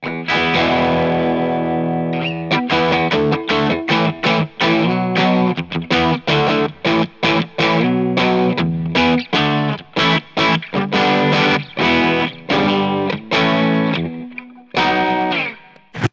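Modded Squier FSR Classic Vibe 60s Jaguar electric guitar driven with overdrive into a Blackstar amp, a sustained chord followed by loud, rhythmic distorted strumming and choppy stabs, with no voices.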